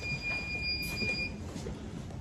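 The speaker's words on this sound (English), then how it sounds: "that's my alarm to tell me I'm almost at boiling" A brewing temperature alarm on a homebrew setup sounds as the wort nears boiling: a thin, steady high-pitched electronic tone holds for about a second over a constant low rumble and hiss, then stops.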